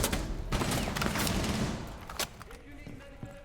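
Rapid gunfire exchange in the Rainbow Six tactical shooter during a collegiate esports match, a dense loud barrage of overlapping shots that tapers into scattered single reports.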